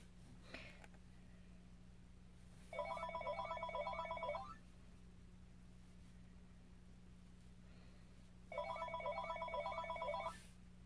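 A telephone bell rings in two separate bursts of electronic trilling, each lasting about two seconds and separated by a quiet gap, heard indoors over a steady low hum.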